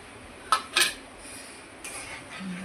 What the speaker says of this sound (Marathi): काजू बदाम हे मी बारीक चॉप करून घेतलेले आहे, ते पण टाकून घेऊया